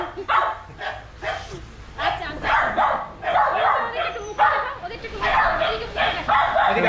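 A friendly dog at a Kolkata pet market barks in a steady run of short, close yips and woofs, with a few whimpers mixed in, while people talk in the background.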